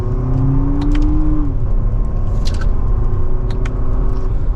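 A 2024 Lexus TX350 AWD SUV accelerates in manual mode from second gear, its engine a steady, close drone and road rumble whose pitch climbs, then drops briefly at a shift before building again.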